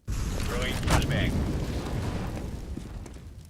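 Counter-Strike: Global Offensive at a professional esports match: a loud, broad blast of molotov fire and grenade explosions erupts and rumbles, then slowly fades, with voices over the din.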